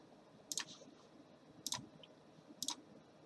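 Three quiet, crisp mouse clicks in design software, each a sharp double tick roughly a second apart, with faint room tone between them and no talking.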